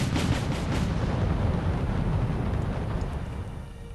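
Tank cannon fire against a Challenger tank in the real-time strategy game Wargame: European Escalation, a dense rumbling barrage of heavy booms with sharp shots early on, continuous and loud, with no voices over it.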